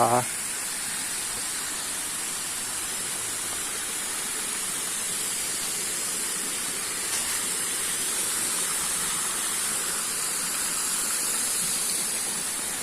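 A small seasonal waterfall flowing into a pool at Ang Chang Nam, Ban Bueng, Chonburi, giving a steady broadband rush of falling water that holds at an even level throughout, with no talk.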